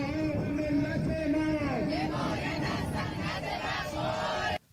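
A large Iranian crowd shouts and chants in unison, a dense, loud, continuous roar of many voices holding steady throughout before cutting off abruptly at the end.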